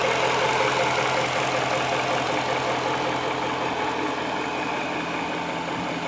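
A supercharged 4.0 litre Jaguar XJR engine transplanted into a 1966 Jaguar S-Type idles steadily, a close, even mechanical hum with a faint knock running throughout and no speech.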